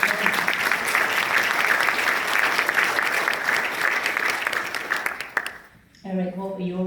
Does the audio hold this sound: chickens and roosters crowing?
no